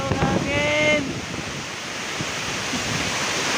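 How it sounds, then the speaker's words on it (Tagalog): Strong wind blasts around a small church, a loud steady roar that fills the clip, with a brief voice near the start. "Oh, kusog kayo hangin"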